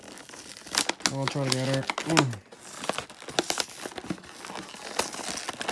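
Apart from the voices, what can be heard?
tearing open packaging of a model airplane box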